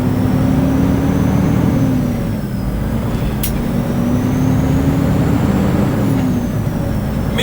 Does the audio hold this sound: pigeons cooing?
no